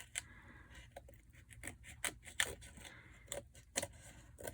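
Scissors snip through the pages of an old recycled book being made into a junk journal, giving a close, quiet series of irregular crisp cuts with small paper rustles between them.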